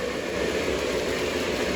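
An MTH Blue Comet electric model train runs with a steady, close, continuous whirring rumble and no breaks.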